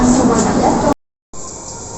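A constant low rumble and hiss of a moving train on a trip to Mumbai, heard from nearby, briefly cutting out to silence before the droning noise resumes.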